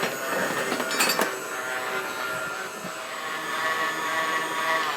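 A stand mixer runs steadily while mixing strawberry pound cake batter, giving a continuous motor whine. Brief metallic clinks from the beater striking the bowl come near the start, and the hum continues at an even level.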